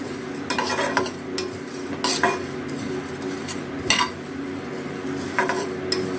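Cumin seeds and black peppercorns dry-roasting over low heat in a pan, stirred with a spoon that scrapes and clinks against the metal in periodic strokes over a faint steady hiss.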